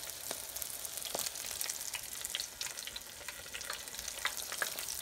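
Onion rings coated in milk, flour, egg and panko fry in a cast iron pan, giving a steady, dense hiss of bubbling oil with scattered small pops and crackles throughout.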